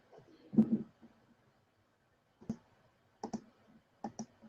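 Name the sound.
typing on computer keyboard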